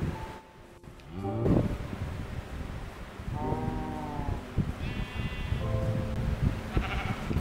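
Minecraft sheep bleat several times in short, nasal calls spread across the scene, each call rising and falling, over a soft background hiss with little talk.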